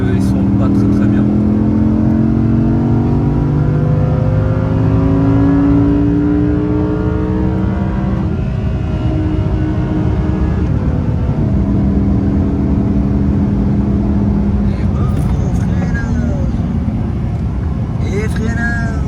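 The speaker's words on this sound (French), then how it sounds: "là en fait je chauffe un peu les pneus parce qu'ils sont pas très bien" On the Nevers Magny-Cours circuit, a car engine drones and revs loudly and close while its tires are warmed, with a rising and falling tone under continuous talk.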